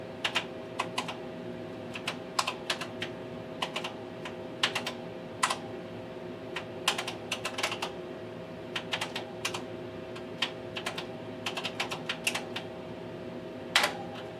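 Typing on a Tektronix 4051 computer keyboard: irregular bursts of crisp, close key clicks spread across the clip over a steady low machine hum.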